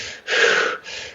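A voice imitates rhythmic triathlon race breathing: two loud, close, breathy exhalation-like gasps in steady rhythm, with no talking.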